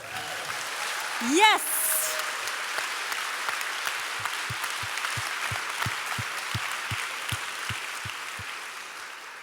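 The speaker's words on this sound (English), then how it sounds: "That was live applause." Live audience applause at a literary event fills the room as a dense, sustained wash of clapping, with a brief shout and a whistle near the start before the crowd settles into steady applause.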